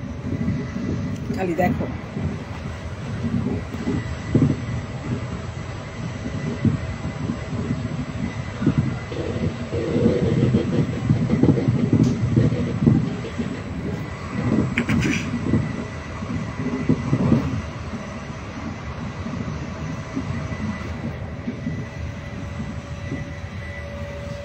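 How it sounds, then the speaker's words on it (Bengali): Ride inside a moving train: a continuous loud rumble and rattle of the carriage on the rails holds steady, with a brief spoken phrase near the start. "আমি বর্তমানে ট্রেনে বসা আছি।"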